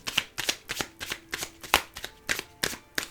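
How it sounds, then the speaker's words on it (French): A deck of tarot cards being shuffled and cut, a quick rhythmic run of about ten crisp riffling snaps, close and fairly quiet, with no talk. "Je vais couper. Je vais vous diriger vers les cartes."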